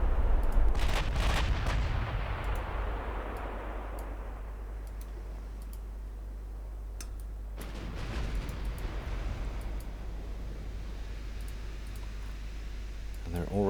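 Naval guns fire at destroyers in the naval strategy game Ultimate Admiral Dreadnoughts, set in 1940: a heavy rolling boom at the start, then a low rumbling lull, and a second deep salvo later over a constant low hum.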